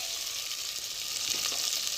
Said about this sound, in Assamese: বিলাহীটো ভাজি ল'ম।